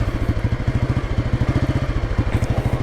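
A Royal Enfield Bullet 500 motorcycle engine idles with the choke on, a close, steady single-cylinder thump in a fast even rhythm with a slight stumble near the end.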